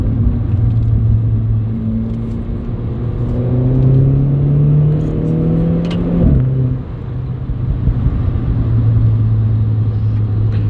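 A Renault Clio IV RS Trophy with a 220 hp turbo engine accelerates, loud and close, its engine note rising through the gears with a brief break at a gear change before pulling again.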